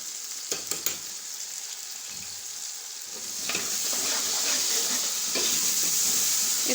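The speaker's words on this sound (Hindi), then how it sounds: "2 से 3 मिनट तक भून लेंगे" Garlic and ginger paste frying in a pan, a soft sizzle with a few spoon scrapes early on, then swelling into a louder, steady hissing fry as cooking continues.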